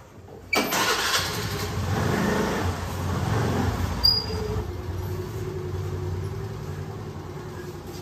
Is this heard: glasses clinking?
no